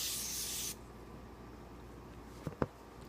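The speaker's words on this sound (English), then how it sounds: "so I'm just going to spray a little bit on my face" A short, steady hiss of facial mist sprayed onto a face, lasting under a second, followed by quiet and a couple of faint soft taps.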